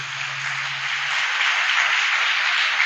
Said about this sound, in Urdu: لیکن بھرپور تالیاں ہونی چاہیے